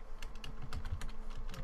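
Quick, light keystrokes on a computer keyboard tap in an irregular rhythm, close and fairly quiet, with no talking over them.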